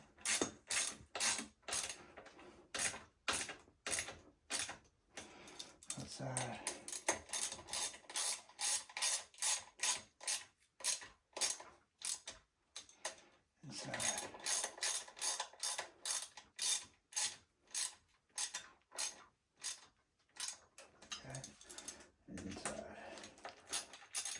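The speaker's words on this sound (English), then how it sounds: "go ahead and tighten your pins down" Rapid ratcheting clicks from a hand tool tightening the pins on a 12-inch E&C ETM supermoto wheel set, repeating in quick bursts with short pauses, close and loud with no talking.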